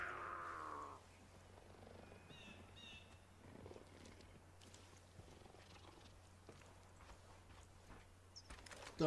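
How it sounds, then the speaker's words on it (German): A cougar named Peaches purrs in the video game Far Cry 5, a faint, steady low rumble going on for several seconds beneath quiet background game ambience, with a brief louder call at the very start. "Da schnurrt aber jemand."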